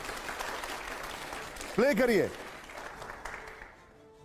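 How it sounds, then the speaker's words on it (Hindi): Played-back clapping at a political question-and-answer session, a broad rustling wash that runs beneath a short spoken remark and then fades away toward the end. "अगले सवाल के लिए जोरदार तालियां हो, प्ले करिए"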